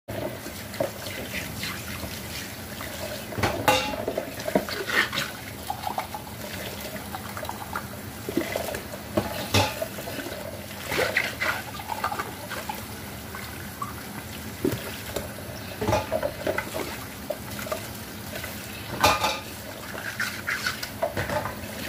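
Washed dishes clattering and being handled at a sink, with intermittent knocks and clinks over a faint running water trickle, close by and without speech.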